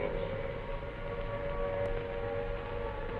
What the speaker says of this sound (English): The noise that you hear at the moment is the sound of the air raid siren.